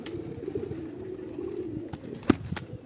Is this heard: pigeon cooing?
yes